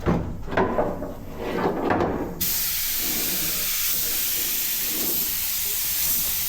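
A small paint spray gun sprays a thin coat onto a fire-damaged 1969 Ford Escort van, first in short uneven bursts and then as a steady, close, continuous hiss with no talking.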